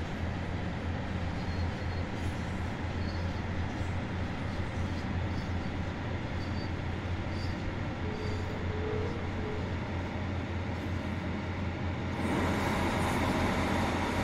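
A diesel train engine in Train Sim World 3, on a Glasgow regional route, rumbles steadily with rail noise, loud and continuous, swelling louder near the end.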